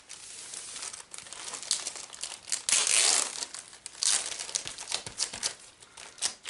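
Crinkling plastic bag handled up close while a diamond art kit is packed back into it, a continuous rustle with louder scrunching bursts, no talking.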